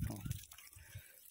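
Water is sprinkled by hand onto soil to loosen it for pulling up palmyra palm tubers, giving a few soft, faint splashes and patters close by, then a quieter trickle.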